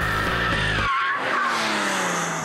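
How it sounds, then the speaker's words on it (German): A Porsche 911 GT3 RS sports car on a race track, a loud engine roar that cuts off abruptly and gives way to a high tire squeal and rushing noise, with no talk. "Mit dem 911 GT3 RS kommt der Schwabenrenner schlechthin zum Antrittsbesuch auf das Look Driving Center."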